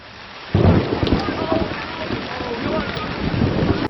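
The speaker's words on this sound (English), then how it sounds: "And then it started to rain" Rain and rolling thunder from the TV show LOST kick in suddenly and loudly after a quiet half second, a steady downpour wash with low rumbles, possible faint voices under it.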